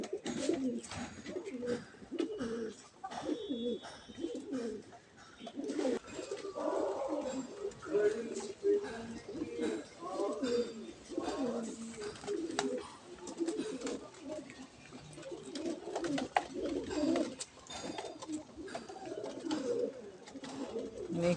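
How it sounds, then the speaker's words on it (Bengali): Pigeons coo repeatedly while feeding on a rooftop, their soft throaty calls overlapping at close range, with people talking intermittently in the background. "পায়রা দেখো কত, এখন এদের খেতে দেওয়া হয়েছে"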